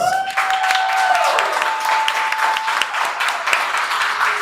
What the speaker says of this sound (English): Let's just get a round of applause from our live audience